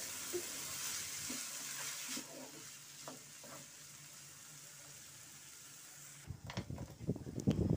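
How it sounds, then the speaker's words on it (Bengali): Potatoes frying in a pan with cumin, turmeric and peanuts, a steady sizzle under scattered scraping stirs that grows louder and busier toward the end as the spatula works harder. "এভাবে নেড়ে চেড়ে আলুটা সিদ্ধ হয়ে আসা পর্যন্ত ভালো মতো ভেজে নিব।"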